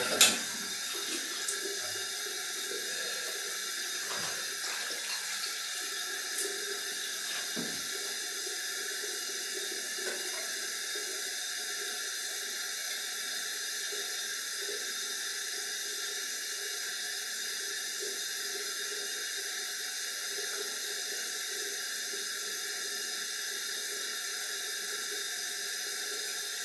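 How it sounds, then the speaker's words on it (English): A tap runs continuously with a steady hiss of water into a sink, a few faint clinks near the start; no talking. "Excuse the noise of the tap."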